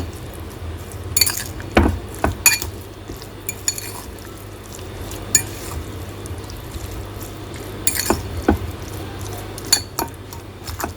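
A spoon clinks and scrapes against a bowl while chicken marinade with vinegar and garlic powder is stirred, giving irregular sharp ticks over a quiet background, with no talking.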